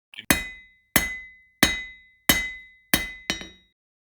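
Metal being hammered: six loud, ringing strikes at a steady pace, each with a bright metallic clang that decays quickly, close by, the last two coming faster.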